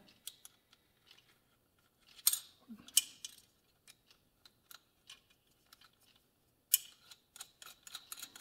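Small metallic clicks and taps from washers and nuts being fitted and tightened onto a Yamaha YL1 speedometer mount, sparse and close, with a brief louder cluster of rattles partway through and again near the end.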